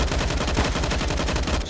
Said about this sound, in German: Schöner Spray hier von Skrunk